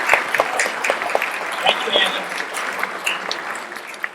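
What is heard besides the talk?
audience applause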